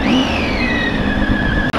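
Motorcycle engine held at high RPM, a loud, steady whining rev with a rising then flattening pitch, close and alone with no talk, briefly cutting out at the end.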